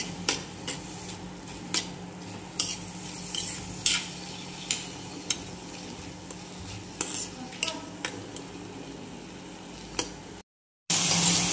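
Green chilies and tomato are sautéed in a pan for rava aappe, a soft steady sizzle broken by regular clinks and scrapes of a spoon stirring against metal, close and without talk, ending after a brief cut.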